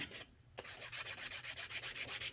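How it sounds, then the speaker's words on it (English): Hand file rubbing along the edges of a cured epoxy resin coaster decorated with alcohol ink, a steady series of rhythmic rasping strokes, close and fairly quiet, with no talking. "So I'll just take the file and I'll just do the edges a little bit."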